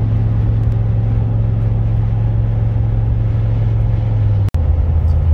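Steady engine drone of trucks rolling up alongside on a highway drive to a truck meet in Utah, a continuous loud low rumble with a brief dropout near the end and no talk.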